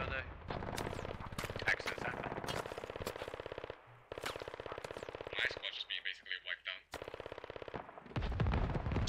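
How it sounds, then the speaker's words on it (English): Sustained rapid gunfire from a military video game set in Pakistan, with troops firing on insurgents: dense automatic bursts and scattered single shots fill most of the stretch, a brief lull near the middle, and radio-style voices cut in over the fire. "Shadow Ghost taking shots from Dr. Long Dong Dawson as the insurgents move to push out and take full control of the south side."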